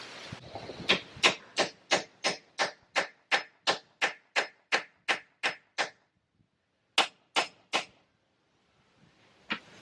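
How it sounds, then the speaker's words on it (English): A hammer striking a tool on a stuck Jeep door hinge: a steady run of sharp metallic strikes, about fifteen evenly spaced blows, then a pause and a few more hits, close and loud. "now I'm going to go back to the tool and the hammer"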